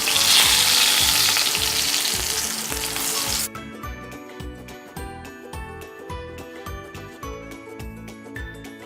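Banana slices coated in oats fry in a pan with a loud, steady sizzle at first, then the hiss drops abruptly to a quieter crackle with light clinks and stirring taps.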